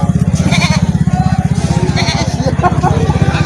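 Goats bleat repeatedly in close, loud, overlapping calls at a livestock auction market, with a steady low engine-like drone underneath and no distinct speech.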